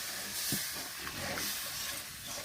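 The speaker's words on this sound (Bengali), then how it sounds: "এখন দিয়ে দেব পরিমাণ মতন ঝোলের পানি।" Water poured over hot sautéed spices in a pan for a fish curry sets off a steady, close steam hiss and sizzle that holds through the short stretch without speech.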